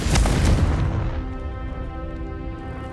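A Confringo explosion spell goes off in Hogwarts Legacy, landing as a single loud, booming blast that rolls out into a long, fading rumble.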